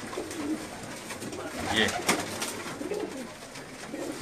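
Pakistani fancy pigeons of Ali bloodline cooing on a rooftop loft in Jeddah, Saudi Arabia, a continuous close murmur of soft coos with a sharp click partway through and a voice speaking briefly.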